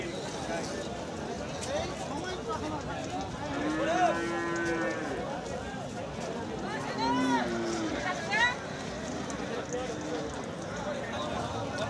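A native bull at a cattle market lets out two long, deep moos a few seconds apart, near and loud, over a busy background of crowd chatter.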